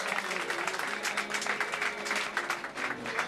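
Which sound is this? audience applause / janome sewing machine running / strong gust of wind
audience applause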